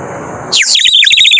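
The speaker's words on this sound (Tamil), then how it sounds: "இதுக்குள்ளே ஜஸ்ட் தண்ணி ஊற்றிட்டு நம்ம வந்து விசில் அடிக்கும்போது குருவி எப்படி கிச் கிச் கத்தும் அதே மாதிரியான சத்தம் இருக்கும்" A clay water bird whistle filled with water gives a quick burst of bright, warbling chirps like a sparrow, rapid and close, after a brief quiet start.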